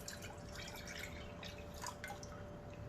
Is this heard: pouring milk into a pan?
yes